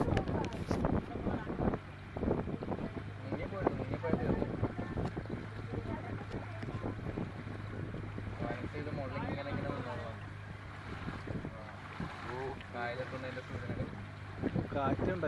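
Wind buffets a boat on the Kumarakom backwaters with constant rushing gusts and low rumble, while people talk nearby.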